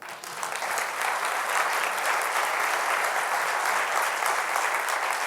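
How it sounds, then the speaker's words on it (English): An audience at a leadership event gives a sustained round of applause that swells quickly after a quiet start and holds at an even, dense level for about five seconds. "I think that deserves a round of applause."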